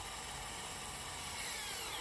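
A Molita 128V cordless drill bores into a block of wood, giving a steady, even whir with a gritty, rasping edge that runs unbroken and fairly quietly throughout.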